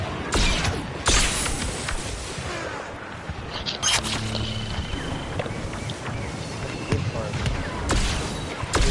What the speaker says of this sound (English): They don't even know I'm shooting at them.